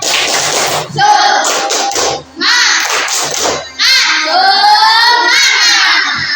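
Indonesian schoolchildren in a classroom chant and clap the rhythmic tepuk semangat together, loud group bursts separated by short pauses, voices shouting in unison.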